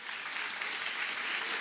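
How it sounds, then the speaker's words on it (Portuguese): A church congregation claps loudly and steadily, a dense continuous wash of applause with no voices over it. "Aplauda bem forte ao Senhor."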